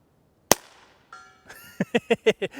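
A single sharp rifle shot from a long-barreled gun cracks loudly near the start, followed by a faint ringing tone and then a series of clicks and clunks from handling.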